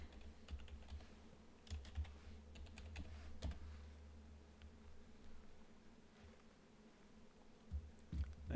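A password is typed on a computer keyboard, giving soft, quiet key taps in small irregular clusters against a faint room hiss.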